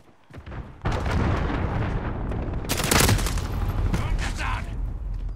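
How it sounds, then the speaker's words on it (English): A cruise missile strike in Call of Duty: Modern Warfare (2019) unleashes a loud, sustained roar of explosions and rolling gunfire that builds and peaks midway, heavy and close. "Allied cruise missile away."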